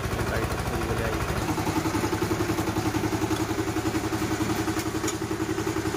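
A VST Shakti 130 DI power tiller diesel engine runs close by with a steady rapid thumping beat, settling into an even rhythmic chug after the first second and a half.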